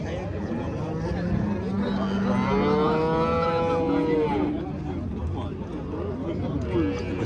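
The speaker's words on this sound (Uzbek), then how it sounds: "Sigirimiz." A cow at a livestock market in Kitob lets out one long, loud, wavering moo amid a steady background of crowd chatter and market noise.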